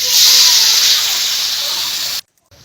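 Water poured into a hot pan of frying vegetables gives a loud, steady sizzling hiss that runs for about two seconds and then cuts off abruptly, with no talking.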